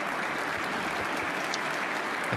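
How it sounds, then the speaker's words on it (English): Steady applause from a snooker crowd at a nearby table during the Northern Ireland Open, a continuous, even wash of clapping with no voices over it. "You can hear the applause"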